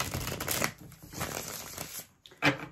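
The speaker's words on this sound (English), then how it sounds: "let's give these cards a shuffle" Tarot cards are shuffled close by in a few rustling, riffling bursts with a short pause before the last sharp flutter.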